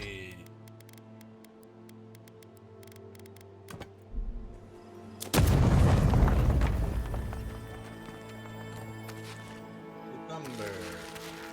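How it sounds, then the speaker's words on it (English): A grenade blast in a fantasy video game with rangers and gunslingers: a sudden loud, broad explosion that rolls and fades over several seconds, over steady game music and scattered clicks. "Grenade."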